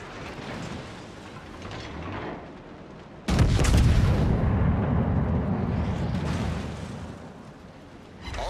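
Heavy naval guns fire in a warship battle game, one loud booming salvo that roars and rumbles for several seconds before fading, with no one speaking.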